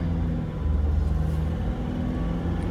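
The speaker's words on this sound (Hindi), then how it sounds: "ये आवाज़ पहिया की वजह से, क्योंकि पहिया एक साइड अप हो रखा है" A Toyota Innova 2.5 diesel with one wheel raised off the ground gives off a steady, close wheel rumble that drones on evenly without a break; no one speaks.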